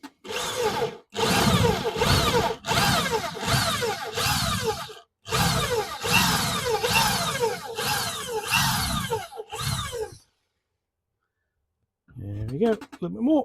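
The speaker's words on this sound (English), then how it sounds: "And drill a 10mm hole." A power drill bores a 10mm hole on a model railway layout in a run of loud, close whirring bursts separated by short pauses, stopping near the end while a voice talks briefly.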